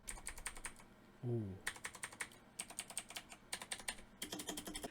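Keys of a $35 budget mechanical keyboard are tapped in quick, crisp bursts of clicky strokes, recorded close, with a short pause where someone briefly exclaims between runs of typing.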